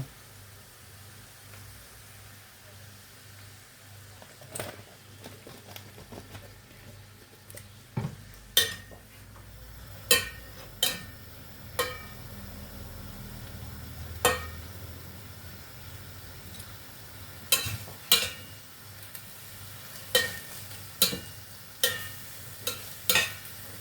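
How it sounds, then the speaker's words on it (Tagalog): Ground meat and vegetables sauté in a pan with a splash of soy sauce, giving a steady low sizzle broken by frequent sharp clinks and scrapes of a utensil against the pan, close by and with no talking. "we will put a little bit soy sauce in sauteing"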